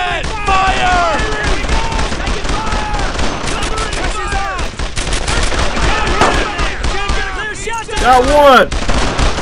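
In the World War II shooter game Brothers In Arms: Earned In Blood, dense, loud gunfire of rapid rifle and machine-gun bursts runs almost nonstop under shouted squad commands.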